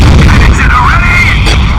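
Heavy cannon fire booms in the Dawn of War: Soulstorm battle game, a loud continuous barrage of low rumbling blasts with a whining tone passing over it.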